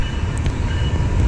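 A CSX manifest freight train with GP40-3 and AC44 locomotives as distributed power rumbles past nearby with a steady low roar and faint metallic squeals above it.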